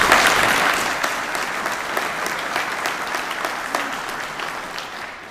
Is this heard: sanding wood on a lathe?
no